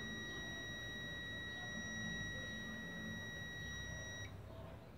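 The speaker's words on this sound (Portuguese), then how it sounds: "E vocês estão vendo que está bipando." A steady electronic beep tone from a multimeter's continuity tester checking a compressor's thermal protector, held continuously for about four seconds and then cut off, over faint background hiss.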